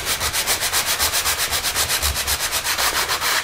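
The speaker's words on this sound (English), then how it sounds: "I guess I could sand on the inside" A cork sanding block is rubbed back and forth across the inside of a wooden box, across the grain. It makes a close, steady, rhythmic rasping with regular strokes and no talking.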